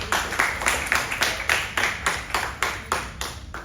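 Audience applause at a Singapore National Day debate event, a steady burst of many hands clapping with a rhythmic, pulsing quality, fairly close and sustained throughout.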